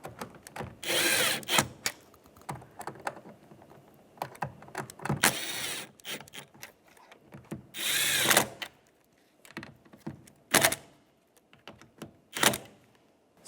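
Power tool drives the mirror mounting nuts on a 2011-2021 Jeep Grand Cherokee with an 8mm socket, several short whirring bursts separated by pauses and ratcheting clicks, close and clear.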